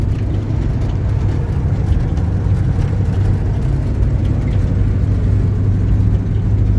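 A 1971 VW Beetle 1300 out on the road, its air-cooled engine a loud, steady low drone with a constant rumble heard from inside the car and no speech.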